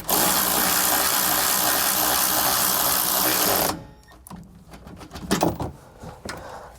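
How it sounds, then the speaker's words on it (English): A ratchet tightening a SumoSprings helper spring on a 2020 motorhome gives a dense, steady buzzing whir for several seconds, then stops, followed by scattered clicks and clunks of tool handling nearby. "we'll switch over to our ratchet here. We'll push up on the spring here and we'll begin tightening it down"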